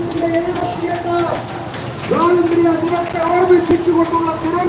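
Steady rain pours over an outdoor BJP political event in Kottarakkara, a dense hiss beneath someone talking throughout.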